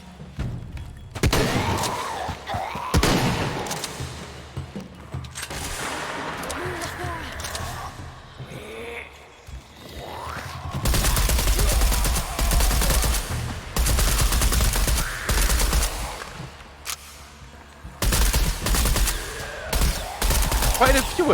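Repeated gunshots and machine-gun fire hammer away at an enemy in a Lara Croft Tomb Raider-style action game, loud and sustained in long volleys, with game sounds and occasional voices mixed in.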